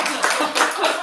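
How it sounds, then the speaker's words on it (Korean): Audience applause at a disability family survey report meeting in Jecheon: a dense, steady wash of many hands clapping, fairly loud and continuous throughout, with no speech over it. "박수 한번 주세요."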